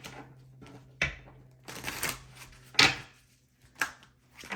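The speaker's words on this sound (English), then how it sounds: "Let me shuffle." Tarot cards are shuffled by hand at close range. Bursts of riffling and slapping arrive in irregular clumps, with a faint low hum between them and no speech.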